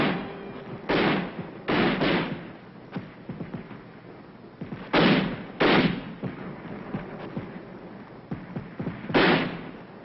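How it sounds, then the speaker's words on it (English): Mortar fire during the Korean War withdrawal near Uijeonbu: several sharp, booming blasts spaced irregularly, some in quick pairs, over a low background rumble on an old, band-limited recording. "Mortars blast at the approaching Reds who threaten to cut off the combat teams."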